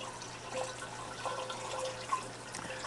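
Cleaning solution drips from a home ice cream machine in a kitchen, a quiet, steady patter of drops with a few sharper plinks, near and soft over a low background hum.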